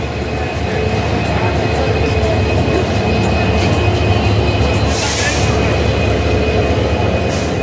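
A train hauled by a Hyundai Rotem 3000 series locomotive rolls into a station with a loud, steady rumble of wheels and cars, marked by a brief squeal or hiss midway.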